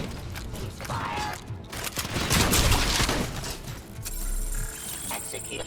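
Gunfire in the video game Robocop Rogue City, dense bursts of shots with mechanical clatter and a low boom, loud and sustained across the whole stretch, with a steady tone entering near the end.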